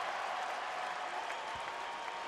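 Basketball arena crowd applauding and cheering for Kobe Bryant's career-high game, Lakers versus Raptors in 2006, a steady dense wash of clapping and crowd noise throughout.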